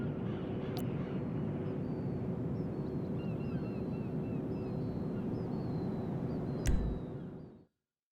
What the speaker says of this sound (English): Now, roll the plane right side up.